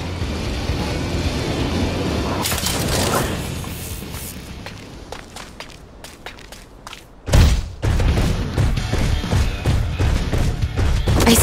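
Bursts of gunfire and heavy impacts from a Super Mecha Champions solo battle, with thuds and footsteps; a quieter stretch gives way to a sudden loud blast and renewed crackling shots.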